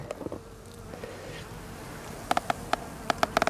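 Honey bees at a hive in winter, the flight entrance blocked, giving a steady low buzzing hum with a few sharp taps or clicks near the end, recorded close and fairly quiet.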